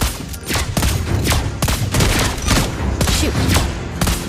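A Mobile Legends hero opens fire in rapid, sharp game shots, about a dozen punchy cracks in quick, fairly regular succession over a dense, loud mix of battle sounds.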